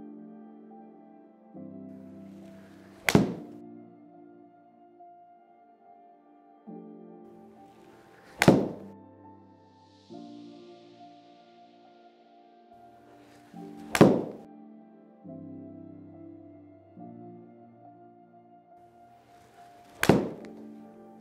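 Golf club striking balls during practice shots: four solid, close impacts spaced roughly five seconds apart, each a sharp crack with a short decay over quiet outdoor background.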